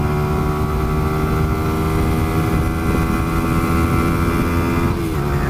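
A Lexmoto LXR motorcycle is ridden hard, its engine droning steadily and loudly at high revs under heavy wind rush on the microphone, with a brief shift in pitch near the end.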